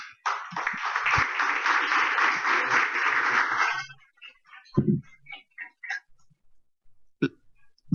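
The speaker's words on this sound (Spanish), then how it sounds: "les pido un aplauso" A conference audience claps briefly for a spine surgeon after a medical talk. The short, fairly faint burst of applause fades after a few seconds into scattered small knocks and near silence.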